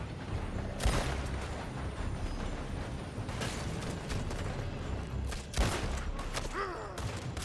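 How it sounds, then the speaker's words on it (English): Gunfire in Red Dead Redemption 2, a handful of sharp shots spread irregularly across a rumbling outdoor background, some close and loud, others more distant. "They're shooting from that building!"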